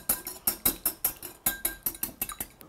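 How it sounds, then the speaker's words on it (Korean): Eggs being whisked in a bowl for Korean Chuseok jeon such as tofu, pollock and perilla-lotus root pancakes: a quick steady series of about fifteen bright metallic clinks of utensil against bowl, close and alone. "그래서 알을 살짝 풀어주세요."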